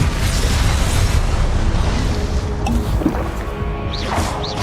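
Confringo blasting spell detonating in Hogwarts Legacy, a dense, loud roar of booming explosive rumble filling the clip, with bright fiery crackles and whooshing magical bursts rising near the end.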